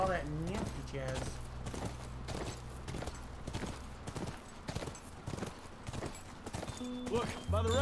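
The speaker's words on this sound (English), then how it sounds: "That's our horse." Horse hooves clip-clop in steady rhythm in The Last of Us video game, close and fairly loud, with game music and voices running underneath.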